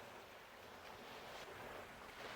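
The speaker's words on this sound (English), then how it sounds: "The rustling of the palm leaves blends with the rhythmic sound of the waves" Ocean waves wash onto a beach in a faint, steady hiss of surf, soft and distant with a gentle swell toward the end, no voices present.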